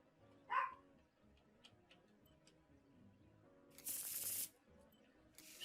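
Tarot cards shuffled in the video game Martha is Dead, a short soft riffle early on and a louder, brighter burst of card noise near the end, with faint ticking in between.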